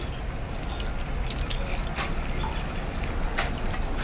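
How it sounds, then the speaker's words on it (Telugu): Cooking oil pours into a kadai in a dhaba kitchen, a steady liquid trickle over constant broadband background noise, with no voices. "నెక్స్ట్ ప్రాసెస్ వచ్చి పక్కన ఒక కడాయి తీసుకొని ఆయిల్ పోసుకోవాలి."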